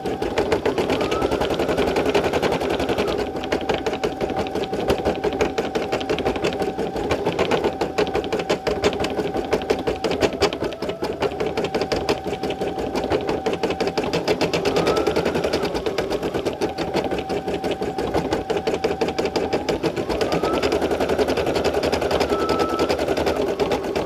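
A Brother SE1900 embroidery machine stitches out a bearded dragon design, running a fast steady mechanical rattle with a humming motor tone that shifts pitch as stitch runs change, loud and close throughout with no talking.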